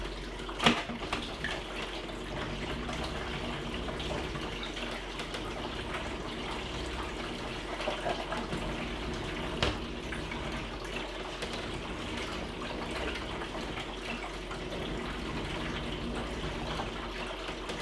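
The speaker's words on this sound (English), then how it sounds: "I'm measuring out my water and not simply going from the tap" Water poured from a measuring vessel for developing C41 colour negative film, a faint steady trickling and gurgle with a brief clink near the start, quiet and close, no talking.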